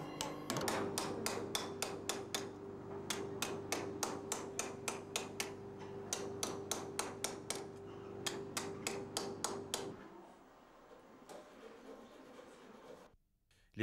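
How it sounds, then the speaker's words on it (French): Bronze or brass sheet is hammered over hardwood forms in steady, evenly spaced metallic blows, about two to three per second, that stop after about ten seconds, followed by a few scattered taps. "Ils sont mis en forme par battage au marteau sur des formes en bois dur"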